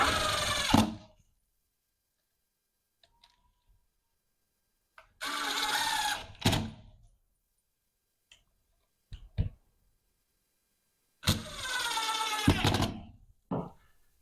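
A power drill drives screws into wood while fitting a window during a cargo trailer conversion, in three separate whirring bursts of about a second each with quiet gaps and a few faint clicks between them.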